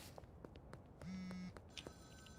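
A phone rings in the video game Schedule I, a single steady electronic tone held for about half a second over faint background game sounds and soft clicks.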